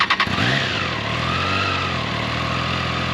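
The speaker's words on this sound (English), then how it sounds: "We'll start it up here just so you can see what it sounds like." A stock three-cylinder motorcycle engine cranks with a few quick stuttering bursts, then catches and settles into a steady, loud, close idle with a low throbbing rumble and no voices.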